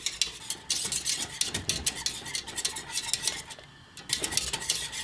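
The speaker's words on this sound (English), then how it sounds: "You keep the flame kind of low underneath it, and then you just keep on stirring it until it thickens up" Wheat flour paste cooking in boiling water in a pot over low flame for homemade clay paint, stirred with a utensil that scrapes and knocks the sides in a quick, uneven rhythm, close and fairly loud.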